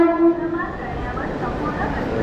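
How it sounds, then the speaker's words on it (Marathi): A Mumbai local train pulls into a station, a steady rumble and rail noise with a brief horn-like tone near the start, close and continuous, while people talk over it. "आता ट्रेन आलेली आहे"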